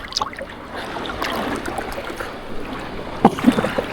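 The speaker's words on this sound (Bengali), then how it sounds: "জেলে মামারা কিন্তু মাছ মারার জন্য তাদের ট্রলার নিয়ে কিন্তু ছুটে চলছে" A fishing trawler moves along the Padma River in the rainy season, heard as a steady wash of rushing water and broadband noise with a few brief splashes and knocks toward the end.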